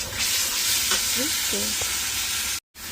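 Gravy with ground melon seeds being stir-fried in a pan, giving a soft, steady sizzle and hiss with a few light stirring scrapes, briefly cutting out near the end.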